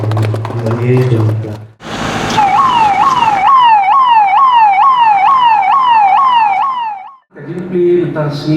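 A wailing ambulance siren in Shillong sweeps up and down in fast, repeated yelps, loud and close, between stretches of talk before and after.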